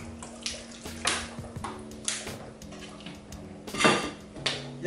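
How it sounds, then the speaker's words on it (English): Spices such as turmeric and paprika stirred together in a bowl for chicken kebab, with a spoon clinking and scraping against the dish in irregular bursts amid faint watery kitchen sounds. "We're gonna mix them all"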